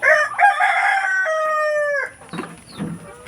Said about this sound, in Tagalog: so apat itong tandang natin na ito yan